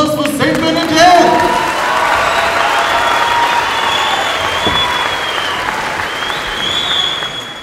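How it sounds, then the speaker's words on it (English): Loud crowd applause and cheering at the Polyfest cultural festival, a burst of clapping with shouts that stays strong and gradually thins, with a whistle-like cheer rising near the end. "Ladies and gentlemen, one more round of applause for St. Bernadette!"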